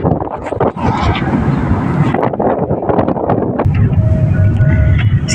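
Wind rushes through an open car window while driving, a steady low roaring buffet that fills the whole stretch with faint scattered noises on top.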